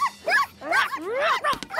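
A voice imitates a dog barking in a cartoon, giving a quick series of yips and bow-wow sounds with whimpering inflections, close and loud over a short burst.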